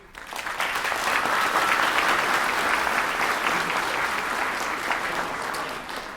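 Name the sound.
audience applauding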